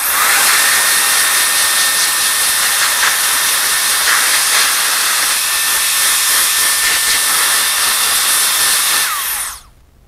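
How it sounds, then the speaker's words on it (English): An LK08 compressed air duster blows a loud, steady hiss at close range for about nine seconds before cutting off abruptly, with a faint whine running through it and no talk. "I bet if we use the blower, we can get a bunch of that off of there."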